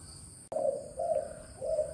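A spotted dove gives three soft, mid-pitched coos in an even rhythm, following a sharp click, over a faint steady high hum, heard at close range.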